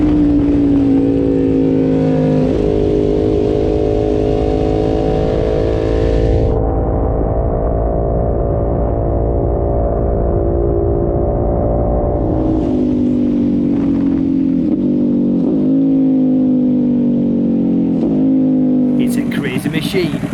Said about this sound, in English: that mighty powerful Ducati V-twin accelerates at a fierce rate of knots